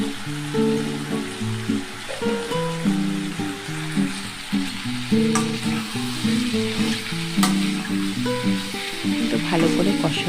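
Panch phoron spices sizzle and fry steadily in hot oil in a pan, a close, continuous crackling hiss broken by occasional stirring clatter, with no one talking.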